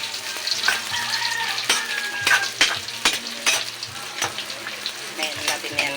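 Papaya and tilapia sizzle in a frying pan while a utensil stirs them, giving steady frying crackle broken by irregular scraping clinks and knocks, close by.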